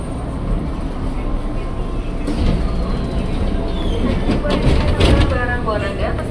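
Indonesian KRL commuter train pulling into Cawang station, a steady rolling rumble with faint wheel squeal and clatter building toward the stop, heard from inside the carriage.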